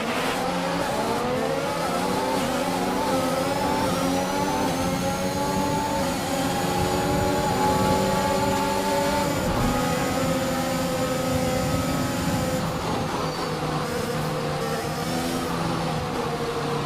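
A Formula 1 race car engine at high revs during an overtake. It whines loudly and steadily for the whole stretch, with rising and falling pitch as it shifts, and another car's engine passes close by.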